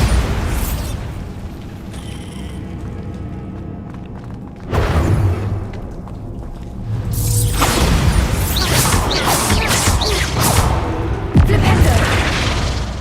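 A Bombarda spell explodes in Hogwarts Legacy with heavy booming blasts and thuds over ongoing combat sound effects, the loudest bursts coming after a quieter opening stretch.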